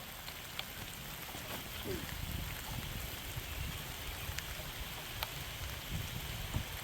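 Rain patters steadily on the surfaces of an outdoor disc golf course, a soft, even hiss with scattered distinct drops, fairly quiet and unbroken throughout.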